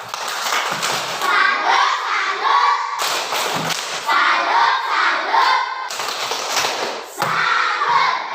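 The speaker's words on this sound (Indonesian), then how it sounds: "Ya, kita tepuk salut." A classroom of children claps a short rhythmic pattern together, three bursts of unison claps and shouts separated by brief pauses, fairly close and lively.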